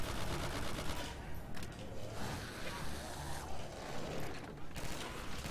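A burst rifle fires in quick clustered volleys inside a zombies map of Call of Duty World at War, the bursts fairly quiet and rough amid ongoing game noise, with a voice talking through it.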